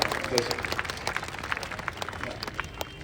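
Applause from the audience at a large poets' gathering in Rajasthan, honouring saints of an ashram, as a dense patter of clapping runs steadily throughout at moderate distance, mixed with faint crowd noise.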